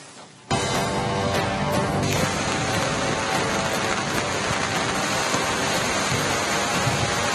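Heavy, unbroken monsoon downpour over the Malenadu hills of Chikkamagaluru, a dense steady roar of rain that starts abruptly after a brief quieter moment and holds loud and close throughout, with no voices.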